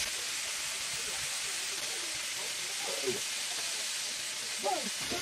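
Steak frying in a hot oiled non-stick pan, a loud constant sizzle and hiss filling the whole stretch, with faint voices talking underneath.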